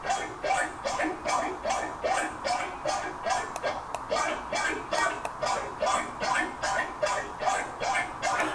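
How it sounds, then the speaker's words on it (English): A synthesized fart-like tone built in the Serum synthesizer repeats in a steady run of about twenty short, buzzy, pulsing bursts, loud and close, with no voices. "It kind of sounds like a farting noise."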